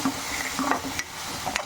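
Ground tomato being stirred into mutton fry in a pan: a few close scraping, clicking strokes of the spoon over a soft, continuous sizzle.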